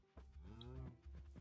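A cow in the Minecraft Dalek Mod video game gives a single short moo, faint and close, with a brief low grunt after it.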